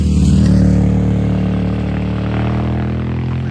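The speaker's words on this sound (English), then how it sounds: "And we've seen tons of motorcycles." Motorcycles roll past a road crossing along the Appalachian Trail, a loud, steady engine drone with a deep harmonic hum that holds through the whole moment without fading.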